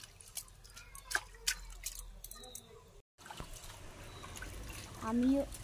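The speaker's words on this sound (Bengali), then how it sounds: "জল বেশি দিয়ে দেবে, সুন্দর করে ধুয়ে নিচ্ছি।" Mustard seeds for kasundi sauce are swished and squished by hand in a bowl of water, producing soft wet sloshes and drips, close by, with a voice talking alongside.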